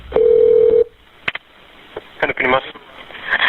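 A short, steady telephone tone sounds as a 911 call is transferred, followed by a few clicks and then a voice speaking on the line.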